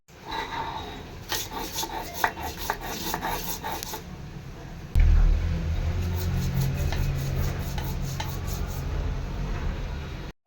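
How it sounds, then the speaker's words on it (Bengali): Onion, garlic, salt and black cumin are ground into paste by hand, a steady rasping scrape that repeats closely, then a heavier continuous grinding rub in the second half. "একটি ছোট্ট সাইজের পেঁয়াজ রসুন লবণ কালো জিরে এগুলোকে ভালো করে বেটে নিচ্ছি"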